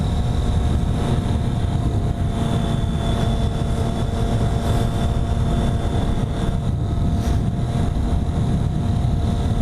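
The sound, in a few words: three-cylinder motorcycle being ridden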